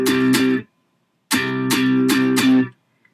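Electric guitar through a Logic Creamsicle Crunch amp setting: two chord stabs, a pause, then four more crisp overdriven chord hits ringing together, loud and close with no voice.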